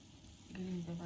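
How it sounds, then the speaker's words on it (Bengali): Onions frying on their own in a pan make a brief hiss of sizzling, with a faint hum or voice-like tone rising under it toward the end. "অনিয়ন আলাদা ভাজি করছি"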